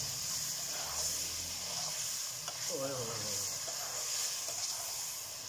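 Garlic and ginger sizzle in a pan for Pakistani chicken palak, a steady soft hiss of frying with faint stirring scrapes throughout.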